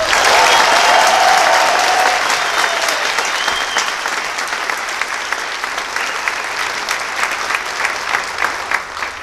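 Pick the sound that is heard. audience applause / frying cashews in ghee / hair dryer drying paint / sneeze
audience applause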